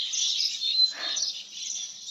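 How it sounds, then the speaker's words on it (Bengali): Birds chirp from around a neem tree at dawn, a high, continuous twittering that stays fairly steady and moderately close, with no talking. "আর পাখির কিচিরমিচির শব্দ চারদিকে"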